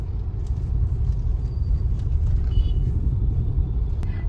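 Road traffic rolls past on a rainy evening during Ganeshotsav, a continuous low rumble of cars and engines close by with faint higher hiss, and no voices.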